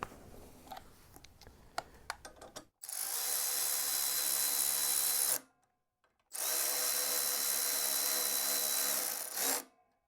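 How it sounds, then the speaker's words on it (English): An M6 screw is power-driven into a Touratech rear brake master cylinder guard on a KTM 790/890 Adventure, with a spacer behind the part: two steady, close ratcheting whirs of about three seconds each, separated by a short silence. "thread the screw in"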